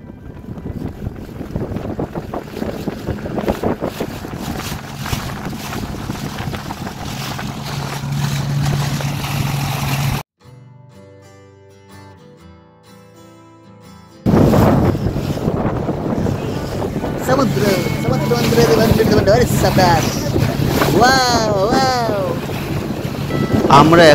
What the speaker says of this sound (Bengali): আমাদের বোটটা এখন ঠিক ফিশিং হারবারের পাশ দিয়ে যাচ্ছে